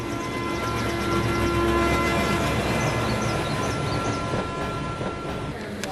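A train runs with a steady rumbling roar and rail noise, while faint chirping and a brief high tone sit over the continuous rolling sound.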